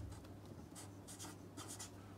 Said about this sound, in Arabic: هروح ارسم